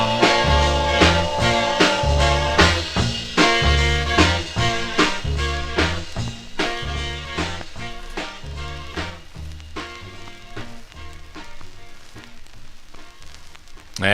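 A 1955 R&B vocal group record plays loudly with steady bass, beat and harmonized singing running throughout.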